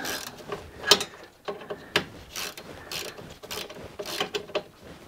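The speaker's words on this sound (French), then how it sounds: "Et on les visse dans le plastique du radiateur." Screws being driven into the plastic of a car radiator, with repeated ratcheting, clicking mechanical bursts and short metallic ticks at close range, coming in uneven spurts with brief pauses between.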